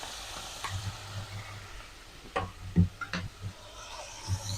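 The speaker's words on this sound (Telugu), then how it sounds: "ఇవన్నీ వేగిన తర్వాత ఇలా టమాటా ముక్కల్ని వేసేసుకున్నాను" Tomato pieces dropped into hot oil over fried ingredients in a home kitchen pan give a soft, crackling sizzle with a few sharper pops and stirring knocks, close and without talk.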